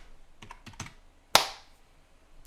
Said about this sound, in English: I could be typing